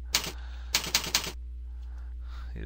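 Two bursts of clacky keystrokes on a computer keyboard, a single tap then a quick run of three or four, close and crisp over a low steady hum.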